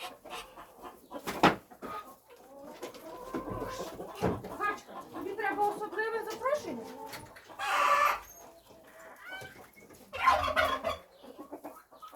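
Chickens cluck and murmur close by in a quiet yard, with a couple of louder squawks rising sharply amid the softer, scattered clucking.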